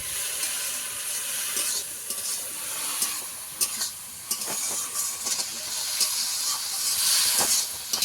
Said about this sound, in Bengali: এবার ডাল আর পুঁই শাক একসঙ্গে আমি ভালো করে ভেজে নেব কিছুক্ষণ একটু কষাবো